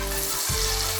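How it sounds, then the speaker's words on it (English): Chopped tomatoes and garlic sizzle steadily in a hot pan for a stew with spinach, mackerel and egg, a close, continuous frying crackle with a brief stir in the middle. "just going to allow this tomato to fry down and soften a bit"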